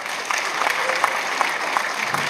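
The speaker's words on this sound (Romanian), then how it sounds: "Și să ne convingem de acest lucru, prin aplauze, desigur." Audience applause at a spring festival show, dense continuous clapping from a crowd with a few sharper individual claps standing out, loud and sustained across the short stretch.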